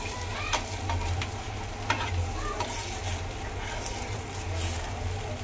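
Gram flour flatbread fries in oil in a pan, giving a steady close sizzle with a few brief scraping and crackling bursts throughout.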